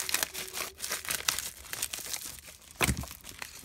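Plastic packaging being cut open with scissors, giving a run of close crinkling and tearing rustles with sharp snips and a louder rip near the end.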